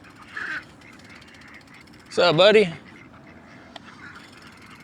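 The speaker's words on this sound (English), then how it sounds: "Look at all the ducks." Ducks on a small roadside pond give one loud burst of quacking partway through, with a quieter call earlier, and someone talks near them between the calls.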